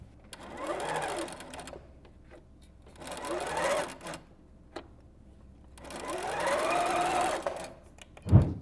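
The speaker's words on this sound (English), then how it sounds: "Then I'm gonna sew corner to corner." A sewing machine stitches quilt binding in three separate bursts of fast, even whirring, each a second or two long, with quiet pauses between and a small thump at the end.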